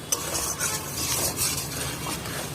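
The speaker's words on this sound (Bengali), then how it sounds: "এইভাবে ভালো করে একটু নেড়ে নিয়ে কষিয়ে নিচ্ছি মশলাটাকে" Spice masala stirred and fried in a pan for a lentil-fritter curry, a steady close sizzle with scraping spoon strokes against the pan throughout, no voices.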